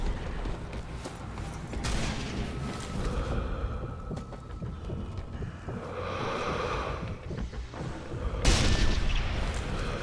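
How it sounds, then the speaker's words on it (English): Explosions in the video game Sniper Elite: Nazi Zombie Army, a couple of muffled booms rising out of a windy, rumbling in-game ambience, the last one loudest, with no talk. "Explosion."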